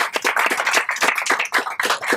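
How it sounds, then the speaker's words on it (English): A small crowd at an outdoor library groundbreaking ceremony claps close by. The claps are dense and steady, running for a couple of seconds with no voices. "Can we just give her a round of applause?"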